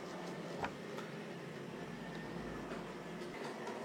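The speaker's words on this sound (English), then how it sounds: "The locomotive coming round now is a model of the Campbelltown and Machrihanish Light Railways" An N-gauge model locomotive of a Campbelltown and Machrihanish Light Railway engine, repainted green, runs along the track, giving a faint, steady rolling rumble and hum with a couple of light clicks.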